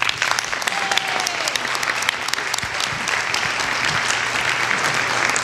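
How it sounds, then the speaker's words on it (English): Steady, dense applause from a congregation at an Earth Day church service, many hands clapping evenly and at a constant loud level throughout, with no break. "One more round of applause."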